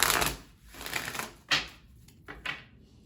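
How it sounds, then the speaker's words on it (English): Tarot cards riffled and shuffled by hand in several quick bursts, the papery flutter close and fairly loud with short pauses between rounds. "I felt like this deck also wanted to be shuffled."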